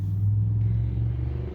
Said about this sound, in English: You might hear some traffic in the background